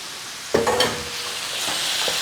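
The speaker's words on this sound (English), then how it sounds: "Give that a little stir around." Fresh chopped tomatoes are stirred into a sizzling one-pot meat biryani, a brief scrape and clatter of the spoon over a soft steady frying hiss, close and fairly quiet.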